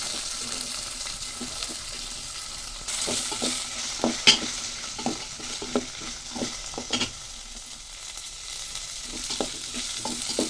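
Small onions frying in a pan for Uttarakarnataka-style upma, a constant soft sizzle broken by regular stirring scrapes that grow busier midway, close-up with no talk.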